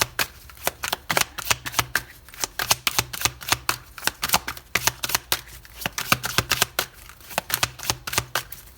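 Tarot cards are shuffled and drawn by hand, a quick irregular series of crisp papery flicks and riffles close to the listener, fairly quiet and with no voice over them.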